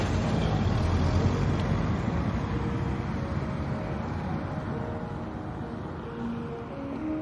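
A truck engine rumbles steadily in a cartoon, with broad road and wind noise, a continuous low drone that eases slightly toward the end.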